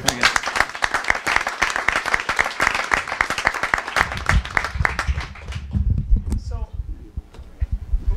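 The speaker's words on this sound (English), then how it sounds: "Let's give Paul a round of applause." At a school board meeting, an audience gives Paul a round of applause, distinct close claps for about four seconds that thin out as voices begin talking.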